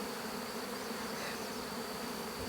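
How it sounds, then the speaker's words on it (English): Honey bees swarm around a beekeeper's hives in Tennessee, a dense, steady buzzing that fills the air close by for the whole stretch, with no voices over it. "just look at all the bees"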